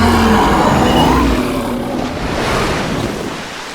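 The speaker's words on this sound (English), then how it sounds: "And then it essentially roars," A seven-headed sea monster thrashes and splashes water as a sound effect: a loud, continuous rushing wash of waves and surf that swells, eases and swells again.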